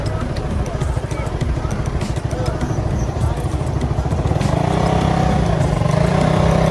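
Motorbike engines hum and rev steadily through a busy market street in Bangkok, with a continuous mid-level rumble of traffic and faint crowd noise behind.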